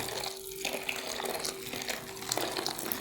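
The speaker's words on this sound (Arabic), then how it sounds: "نحط المي" Hot water is poured over tamarind, a continuous soft splashing stream at close range with no talk.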